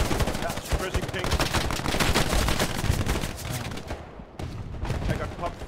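Dense suppressing gunfire in the World War II video game Hell Let Loose during a competitive match, with rapid overlapping rifle and machine-gun shots continuing throughout, briefly pausing near the end before resuming.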